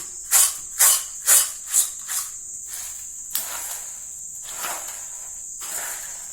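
A crispy South Indian garlic mixture snack is shaken and tossed, giving five quick rhythmic rattling swishes followed by softer, sparser rustles over a steady high hiss.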